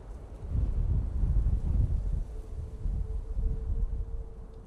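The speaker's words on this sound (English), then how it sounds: "it's getting very, very blustery now" Blustery wind at Manchester Airport buffets the microphone in low, rumbling gusts that rise and fall, with a faint steady tone running underneath.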